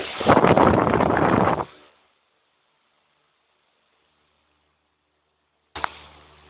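A loud rush of blowing air roars for about a second and a half, then silence, before another gust starts abruptly; could be voiced imitation.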